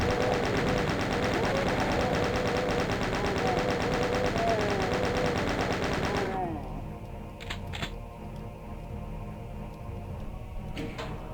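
A chain gun fires in a Doom map: a dense, loud, rapid stream of shots for about six seconds, then it stops, leaving quieter scattered game noises with a few sharp clicks.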